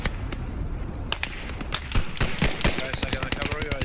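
Rapid bursts of gunfire crackle in Post Scriptum, a WWII battlefield game, with machine-gun rattles and single shots firing in quick, uneven succession at close to mid range, under faint team voice chatter.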